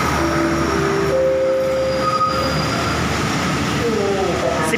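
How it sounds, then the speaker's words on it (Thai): Rapid train locomotive 4418 idles at a station platform with a steady loud rumble and faint squealing tones, while someone talks over it. "หัวรถจักรที่ทำรถเร็ว111"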